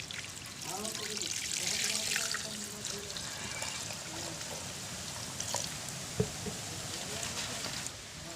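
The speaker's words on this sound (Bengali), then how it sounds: "আর এ পর্যায়ে এখানে আমি দিয়ে দেবো এখন পানি" Water is poured into a pot of spiced chickpeas, a continuous close splashing trickle lasting several seconds, with one brief knock partway through.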